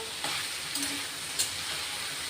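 Cauliflower and potatoes stir-fried in a pan with onion, tomato, garlic, asafoetida and spices for a dry tiffin sabzi, giving a steady sizzle broken by a few scraping stirs of a spatula.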